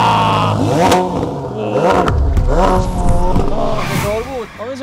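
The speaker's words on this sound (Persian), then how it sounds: "بریم ببینیم که صدای اگزوز این ماشین چطوره" A Ferrari 488 Pista Spider revs up repeatedly, its exhaust note rising and falling in loud sweeps, with voices talking over it.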